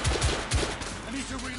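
Gunfire from The Order 1886 crackles through a short burst, with a few sharp shots near the start over a busy, noisy game backdrop and a faint voice.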